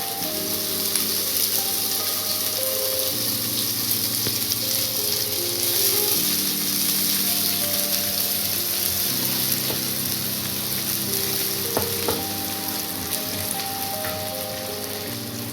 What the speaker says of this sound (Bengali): গোটা জিরে ফোড়ন দেওয়ার পর দেখুন জিরেগুলো কেমন লালচে হয়ে এসেছে এবার আমি এর মধ্যে দেব বাঁধাকপি কুচি